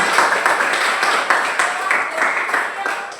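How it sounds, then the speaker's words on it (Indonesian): Students in a biology classroom clapping together, a steady patter of applause that fades slightly toward the end. "tepuk tangan untuk kita semuanya"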